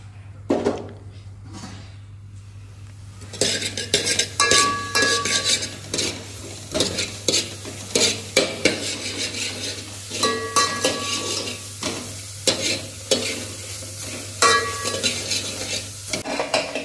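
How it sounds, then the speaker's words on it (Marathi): Onions fry in a pan for a Maharashtrian curry and are stirred repeatedly, rhythmic close scraping and clanking of a spatula over a low sizzle, with a steady hum in the background. "आता मस्तपैकी कांदा भाजायचं चालले"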